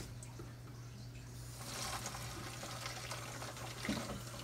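Water runs steadily into a pot for pot roast, a soft continuous splashing pour that starts after a quiet moment and continues to the end.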